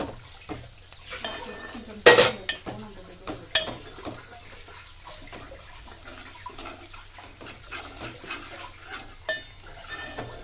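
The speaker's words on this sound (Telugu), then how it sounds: "ఇప్పుడైతే కలుపుతున్నాం దాన్ని." Spoon stirring and scraping food in a frying pan during home cooking, with a few sharp metal clatters early on, then soft steady scraping and a faint sizzle underneath. No one speaks.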